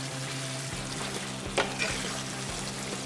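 Brinjal masala curry being stirred in a pan with coriander leaves, a soft sizzle under regular scraping strokes and a brief bright clink of a spoon against metal.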